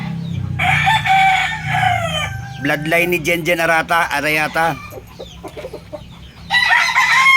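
A backyard rooster over three years old crows loudly and close, several drawn-out calls in a row with a pause before the last, while someone talks over and between them.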